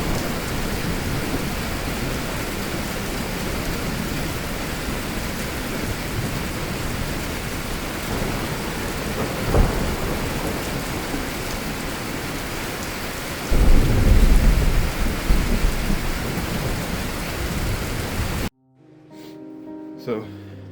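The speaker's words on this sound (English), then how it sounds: "but it is downpouring outside" Heavy rain pours down outdoors as a steady, loud roar, with a rumble of thunder rolling in partway through. The rain cuts off near the end and some quieter sounds follow.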